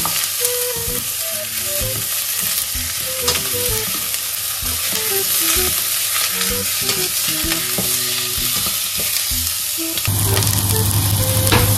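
Onions frying in a pan for chicken tinola, a loud bright sizzle running throughout with stirring clatter, while a voice chatters high and tonal in the background.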